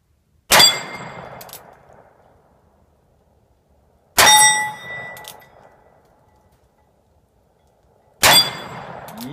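Three loud revolver shots from a single-action Cimarron 1873 each ring a steel plate on a rack, each sharp crack followed by a bright metallic clang that decays slowly, spaced about four seconds apart.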